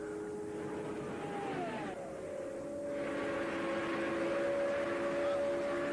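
Rick Mears' number 6 Penske Indy race car, the Gould Charge, drives on a racetrack with a sustained engine drone that rises in pitch and loudness, shifting as it passes and continuing steadily near.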